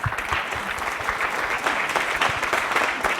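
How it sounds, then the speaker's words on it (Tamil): An audience applauds at a Tamil speech competition, a continuous wash of clapping from many hands at a moderate, steady level throughout. "ஒரு நல்ல கைத்தட்டல் கொடுக்கலாம்"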